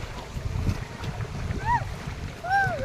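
A small boat moves across open water with steady wind and water rush close to the microphone, faint bird-like whistles rising above near the end, no clear talk.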